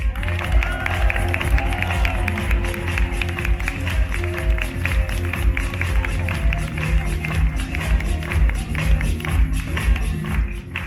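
Audience clapping and cheering at an outdoor Zorro show in a western-themed setting, a dense steady wash of applause with crowd noise that continues for the whole stretch.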